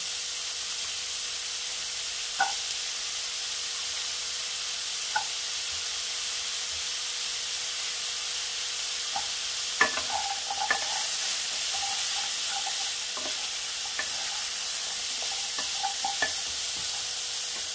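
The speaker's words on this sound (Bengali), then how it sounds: "এবার এর মধ্যে দিয়ে দেবো কুচি করে রাখা গাজর।" Chopped carrots being stirred into chicken frying in a pot: a steady sizzling hiss throughout, with occasional light scrapes and clinks of a spoon against the pot.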